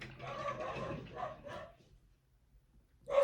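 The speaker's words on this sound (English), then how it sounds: "The dog." A dog barking indoors, a few muffled barks in quick succession, then a pause and another bark, heard without talk.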